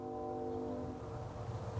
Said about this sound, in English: A nice train horn there.